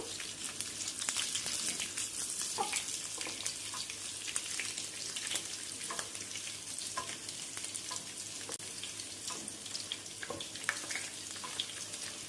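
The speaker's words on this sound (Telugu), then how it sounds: "కొంచెం కరివేపాకు వేసుకోండి ఇవన్నీ బాగా వేపుకుందాం" Curry leaves and onions fry for a spinach and grated mango chutney, giving a steady close crackling sizzle with occasional sharper pops and stirring scrapes throughout.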